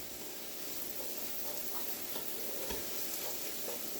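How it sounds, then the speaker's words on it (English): Vegetables sauteing in a pan for a chicken pot pie, a continuous, even, close sizzle with a few faint ticks from stirring, and no voices. "Now while these are sauteing,"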